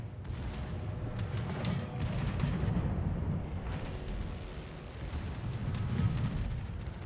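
Carnot super cruiser firing armour-piercing shells in World of Warships: repeated heavy booming salvos with deep rolling rumble, several blasts spaced a few seconds apart, loud and close throughout.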